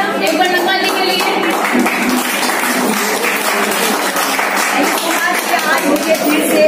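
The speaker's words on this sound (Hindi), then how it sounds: "जोरदार तालियां एक बार नगमा जी के लिए।" Audience applause at an award ceremony for a news reporter, a steady dense wash of clapping lasting throughout, with speech mixed in.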